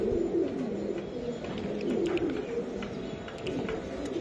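Racing pigeons give continuous low, throaty cooing that keeps rolling in overlapping waves, close and steady, with no voices over it.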